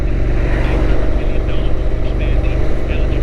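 Steady road traffic rumbles past an e-bike rider just off a main freeway heading toward Byron Bay, a continuous loud engine and tyre roar with wind noise and a voice speaking over it.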